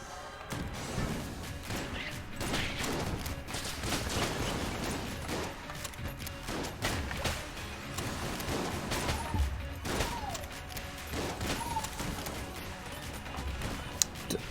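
Steady, rapid gunfire rattles on in Enter the Gungeon, dense bursts of shots and impacts continuing throughout at moderate volume with a busy, clattering texture.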